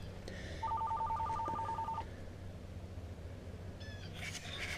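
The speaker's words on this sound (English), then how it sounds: "Telephone's ringing." A phone rings with a rapid warbling trill over steady outdoor background noise beside a wood-fired fish smoker, lasting just over a second, with fainter electronic tones later.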